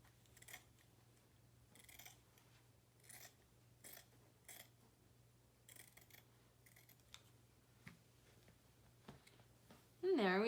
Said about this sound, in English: I'm going to do the same on this side, cutting diagonally.